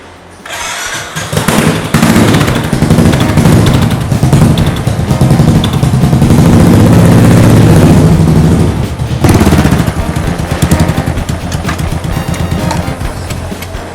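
A custom-built motorcycle engine starts and revs loudly, then keeps running with a rough, throaty idle up close.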